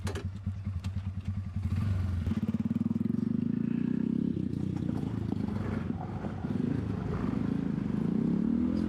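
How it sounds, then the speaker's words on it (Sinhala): A scooter rides past on an offroad adventure outing, its small engine droning steadily and loud and close with a buzzing whir that rises and holds for several seconds, with no talking. "ස්කූටර් යන්නේ මචං ස්කූටර් යන්නේ"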